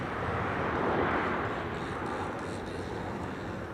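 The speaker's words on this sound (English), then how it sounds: "And this is the EasyJet A320neo arriving from London Gatwick." An EasyJet Airbus A320neo arriving from London Gatwick at Amsterdam Schiphol gives a broad, distant jet roar that stays steady and fairly faint throughout, with no voices.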